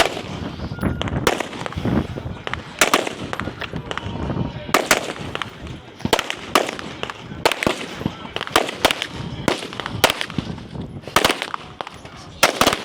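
Rapid pistol shots ring out at a shooting competition stage, sharp cracks fired in quick strings with brief pauses between bursts, loud and close, with some talk mixed in.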